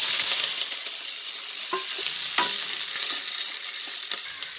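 Sliced onions and curry leaves hit hot sesame oil with cracked fenugreek for a sardine kuzhambu, giving a loud, close, continuous sizzle broken by a few soft stirring clicks.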